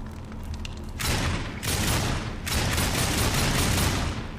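Gunfire in the Darksiders video game, rendered as heavy bursts of loud, booming shots: a short burst around the first second, then continuous sustained firing through to the end, with no voices.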